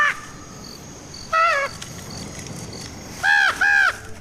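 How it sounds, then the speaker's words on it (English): Crow caws from a TV show playing in a room, two short bursts of harsh repeated calls, one near the start and a louder pair near the end, with quiet background between. "Apparently, crows are very trainable."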